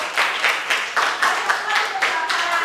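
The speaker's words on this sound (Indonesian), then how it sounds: "Kasih aplaus." A classroom of students clapping together, a brisk burst of many hands in quick uneven rhythm, close and loud for a few seconds.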